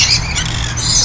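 Pet bird squawking loudly at close range, a few harsh shrill calls in quick succession with no talking over them.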